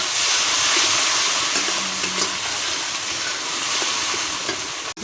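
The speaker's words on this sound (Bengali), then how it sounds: "এখন মশলাটা আমি কষিয়ে নেব" Spice paste with tomato frying in oil for katla kalia curry sizzles loudly and steadily up close, with the scrape of a spatula stirring it around the pan.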